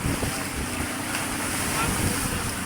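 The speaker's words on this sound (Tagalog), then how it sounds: "Pag sumasapak yung alon sa bangka ay natilabsik" Pacific Ocean waves slosh and slap against a boat hull in rough weather amid steady wind buffeting the microphone, a continuous rough roar of water and wind with no clear pauses.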